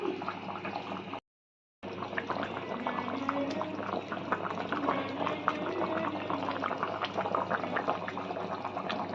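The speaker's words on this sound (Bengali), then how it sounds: "ঝোল আমাদের ফুটে গেছে, এবার আমরা ভাজা মাছগুলো অ্যাড করে দিচ্ছি।" A pot of fish curry with taro bubbles at a steady boil, a dense continuous simmer with small pops, close and moderately quiet, broken once by a short dropout.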